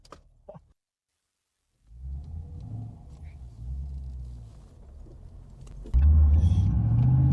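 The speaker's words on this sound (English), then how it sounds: "A really, really nice sounding car." A manual V8 Holden VE SS wagon engine rumbles steadily while driving, a low throaty drone that swells louder near the end, after a brief quiet start with a few clicks.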